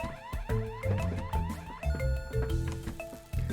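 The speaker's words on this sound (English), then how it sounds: "we're going to sit in here until the alarm goes off" An alarm blares in the video game Horace, a repeating electronic wail that rises and falls in quick cycles, loud and busy over pulsing game music.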